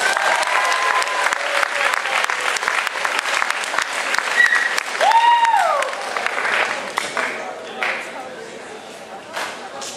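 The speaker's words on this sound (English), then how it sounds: "give student council and Mr. Brookshaw a big round of applause." An audience at a year-end school assembly gives a big round of applause, a dense, sustained wash of clapping with a few whistles and voices mixed in.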